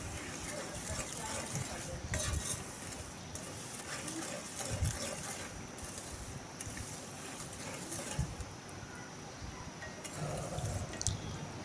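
Hot sugar syrup poured into semolina roasting in a pan for sooji halwa, giving a steady broad hiss and bubbling sizzle throughout, fairly close, with occasional clinks and a voice talking over it.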